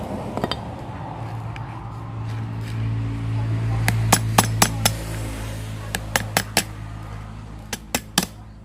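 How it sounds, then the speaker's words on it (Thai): Sharp metallic hammer strikes ring out in uneven bursts over a steady low hum, the blows clustering in quick groups of three or four, hammering a pull-starter recoil spring into place. "ก็อาศัยค้อนนะครับ กระแทก"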